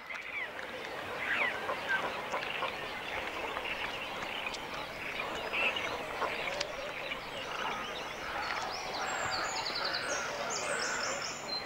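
Young cormorants at a breeding colony on a German reservoir call continuously while parents feed them, a dense, busy chorus of squawking and begging cries with some goose-like honks, steady and fairly loud throughout.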